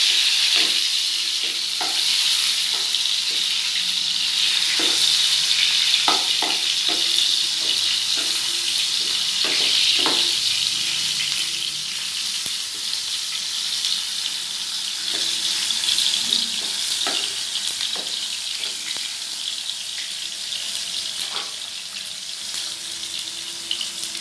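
Loud, constant hiss of tomatoes added to golden fried garlic in a pan, with scattered taps and scrapes of stirring, close up and without speech.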